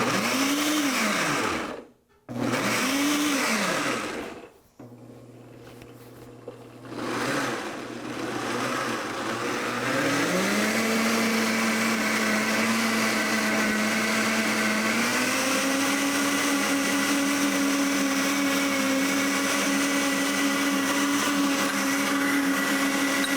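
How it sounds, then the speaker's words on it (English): A kitchen blender set to puree whirs loudly and close, starting and stopping in short bursts before settling into a steady high-pitched motor whine that shifts up in pitch as the mixture loosens, with no one talking. "so we're first gonna turn on our blender, and I'm gonna set it to the puree"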